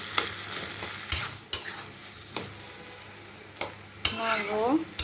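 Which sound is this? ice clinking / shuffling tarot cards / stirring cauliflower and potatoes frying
stirring cauliflower and potatoes frying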